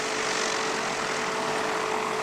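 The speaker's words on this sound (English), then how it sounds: "They're up in the air, taxiing around all over the place. Airplanes everywhere." Propeller airplanes at an airshow, including RV6 aircraft, give a steady, loud engine drone that fills the whole stretch without pause, close and continuous.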